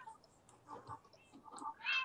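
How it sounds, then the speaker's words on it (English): A faint video game cat meow from a tree rises at the end, after quiet, scattered murmuring sounds; soft and somewhat distant overall. "There's cats in this tree."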